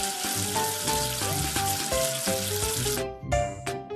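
Cartoon water rushes to wash soap off a letter in a kids' alphabet app game, a hissing splash layered over bright tinkly music that cuts off abruptly near the end.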